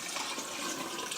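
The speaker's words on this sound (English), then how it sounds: "I'm going to pour my contents of my cup in here first," Liquid poured from a cup into a very tall container holding six cups of flour for slow artisan bread dough, a steady rushing pour running for the whole moment, close and fairly soft, with no talking.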